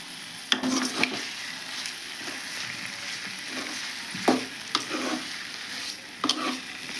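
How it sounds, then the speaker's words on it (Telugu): Bitter gourd pieces frying in a pan while being stirred, a soft steady sizzle broken by several sharp scrapes and knocks of a spoon against the pan, close and unaccompanied by talk. "తర్వాత కాకరకాయ ముక్కలు కూడా వేసేస్తున్నానండి కొంచెం బాగా కలిపేద్దాము"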